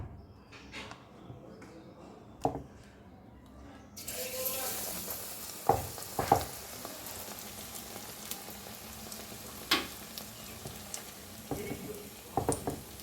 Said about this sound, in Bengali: তো এবার আমি আস্তে আস্তে একটা একটা করে সুন্দর করে ভেজে ফেলব।